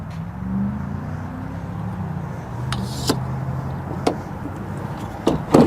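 The tailgate step on a 2019 Ford Raptor Shelby Baja Edition pickup slides back into place. A low rumbling background is broken by a few sharp clicks and clacks, ending in a cluster of knocks.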